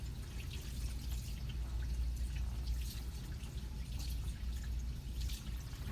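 Water dripping and trickling from freshly washed hands at a sink, a steady soft patter of drops over a constant low rumble, close by with no talk.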